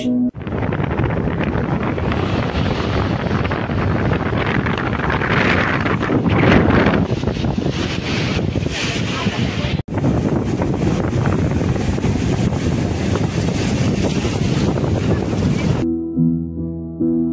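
Strong wind buffets the microphone at the Digha Mohona seashore, where a river meets the sea, with rough surf roaring behind it. The noise is loud, constant and broadband, and it cuts out abruptly near the end.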